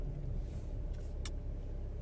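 A 2017-18 Chevy Camaro drives in light traffic, giving a steady low road and engine rumble from inside the car, with a brief faint higher passing sound and no talk.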